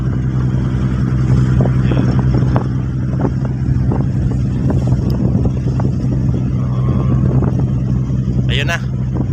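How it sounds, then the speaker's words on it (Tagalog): Constant heavy wind buffets the microphone on a ship at sea near Guimaras island, over a low engine drone, loud and unbroken throughout. "Lakas yung hangin guys."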